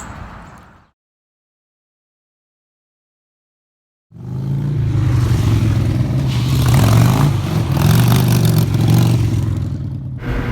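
A Harley motorcycle engine drifting bursts in loud and close after a few seconds of silence, then roars steadily with revving and rough mechanical clatter to the end.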